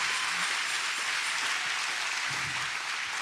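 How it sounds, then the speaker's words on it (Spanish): A church congregation applauding during a sermon, dense continuous clapping that holds steady and fairly loud throughout, with no speech over it. "Somebody can applaud for the Lord."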